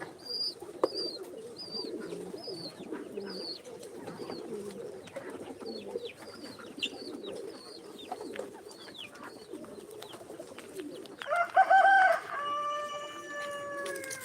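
Chickens, including fancy Silkie chickens, cluck and chirp softly in a steady scatter of calls, and a rooster crows loudly near the end.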